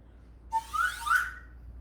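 A whistle sounds as a signal for a group to stand up: a few quick, shrill chirps that rise into a brief warbling trill, fairly close and distinct over a quiet room hum.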